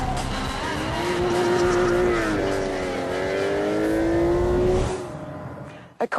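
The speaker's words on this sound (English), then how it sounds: "This is the new Aston Martin Vanquish S." An Aston Martin Vanquish S drives past with a loud sustained engine tone that rises and shifts in pitch for several seconds, then cuts off abruptly.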